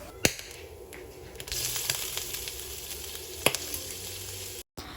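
Onions and curry leaves fry in oil in a pan that earlier held eggs, a steady close sizzle with a few sharp clicks of utensils, ending in a brief cut to silence.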